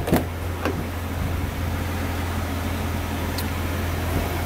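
Steady electric motor hum of the power sunroof on a 2014 Lexus RX350 running continuously at moderate volume inside the cabin, with a low drone throughout and a couple of faint clicks.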